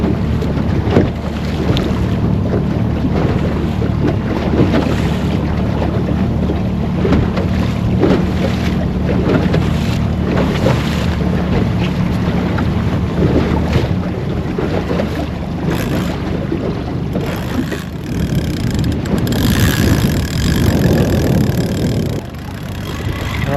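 A small fishing boat's motor drones steadily as the boat moves across the water, with wind buffeting the microphone and water rushing past the hull throughout, and no talk.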